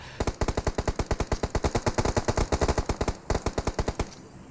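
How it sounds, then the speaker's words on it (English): Rapid automatic gunfire in a competitive online shooter match, a long run of evenly spaced loud shots with a brief gap before a final burst, then an abrupt stop. "Artillery fire there by Halsey"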